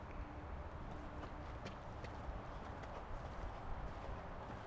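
Horse cantering in a riding arena during a lesson, steady soft hoofbeats in a continuous rhythm under broad background noise, fairly faint and distant.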